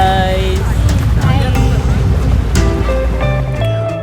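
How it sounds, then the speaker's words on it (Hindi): Boat ride on Lake Pichola in Udaipur, with a steady, loud wash of water and engine rumble throughout, and music with tonal lines playing over it. "फिर हम लोग पिछोला लेक पे बोट राइड पे गए"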